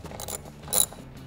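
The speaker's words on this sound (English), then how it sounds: "we're gonna replace our 10 mil bolt on the bracket back here by the power steering reservoir" A hand ratchet clicks briefly while tightening a 10 mm bolt on a bracket near the power steering reservoir of a Ford F-150, a few short close metallic clicks with one sharper burst.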